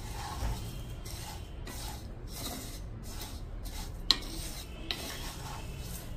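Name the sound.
roasting vermicelli in oil while stirring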